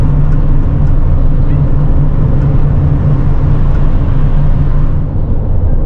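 A small Geo car driving on the road, heard as a steady loud engine and road drone from inside a following vehicle, with no clear rise or fall as it moves.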